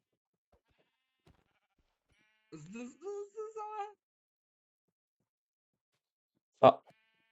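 A single Minecraft sheep bleats in a wavering, quavering call, followed later by a short sharp click-like blip against near silence.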